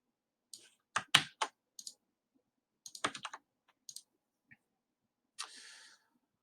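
Computer keys clatter in short clustered bursts of crisp clicks with pauses between them, close and clear in an otherwise quiet room.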